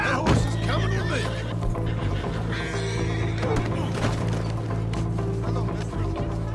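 In Red Dead Redemption 2, a horse gives a loud, close whinny, and galloping hoofbeats carry on under busy game sound effects and music.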